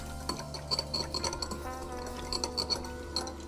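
Light clinking and scraping of a spoon stirring vinegar and soy sauce in a bowl, with soft irregular taps against the sides, close up and fairly quiet.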